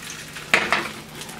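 A bacon, jalapeno and cheese omelet sizzles in a pan, a steady frying hiss broken by two quick bright bursts of sizzle and a scrape close to the listener, with no voices.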